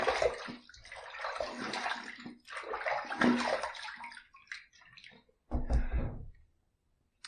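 Water runs in a bathroom sink to rinse a Rockwell T2 adjustable safety razor, with a near splashing flow in several bursts, pauses, and a final short gush.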